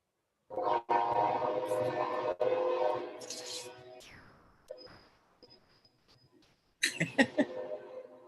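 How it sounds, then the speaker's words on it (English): A passing train makes a loud rumbling roar that cuts off abruptly, then a faint high whistle-like tone sounds before a burst of nearby clatter and rattling returns. "We heard the train going by."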